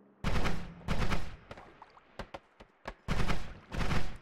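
Explosions in the video game Noita: several loud, close, broadband booms with crackling tails, interspersed with shorter pops and debris-like clatter, no speech over them.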